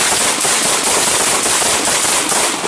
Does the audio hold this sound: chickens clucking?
no